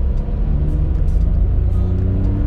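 The three-cylinder engine of a 2012–2020 Volkswagen Up runs at a steady, close, even hum with a low rumbling undertone and no sharp revving.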